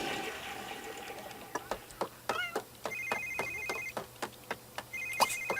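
A telephone rings in The Sims 3 with repeated electronic ring bursts at an even pace, following a fading flushing water sound at the start.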